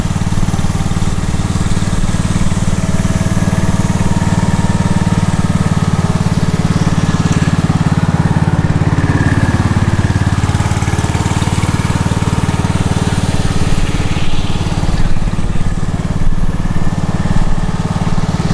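A tractor dragging a baseball infield dirt in circles gives a steady, loud, close engine drone with a low rumble that continues unbroken for the whole stretch, with no voices.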